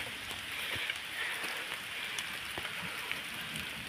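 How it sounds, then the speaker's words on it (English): Light drizzle at a riverside, a soft continuous patter of raindrops on surfaces with scattered small ticks, steady and fairly faint with no speech. "It's drizzling. It's a kind of raining."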